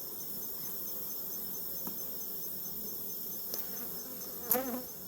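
Steady honey bee buzzing at an open hive during inspection hums throughout, a dense continuous drone of many wings, with a few brief louder passes close by near the end.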